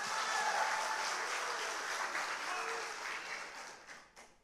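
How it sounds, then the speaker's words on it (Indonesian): Audience applause for the panel team at a public debate for regent and vice-regent candidates in Tanggamus Regency, a dense sustained clapping of a large crowd that gradually thins out and fades. "Saya minta untuk aplaus kepada tim panelis dan parumus."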